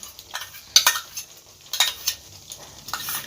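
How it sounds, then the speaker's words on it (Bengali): Spoon stirring beaten sour yogurt into cooked masala for a butter mushroom dish, soft scraping strokes with a few clinks against the pan, close and clear. "এবার দইটা ভালোভাবে মশলার সঙ্গে মিশিয়ে নেব"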